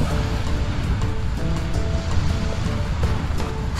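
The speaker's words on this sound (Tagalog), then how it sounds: "Walang naliligo kasi malakas yung alon banda dito." Strong Pacific Ocean surf breaking on the shore, a steady loud wash of waves rolling in with no voices, filling the whole clip.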